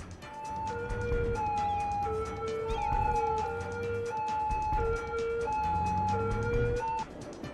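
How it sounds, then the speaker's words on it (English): A wailing siren rises and falls repeatedly over low traffic rumble in the city-building game Cities: Skylines, loud and continuous throughout, with no talking. "You can't be like down on this road without hearing sirens."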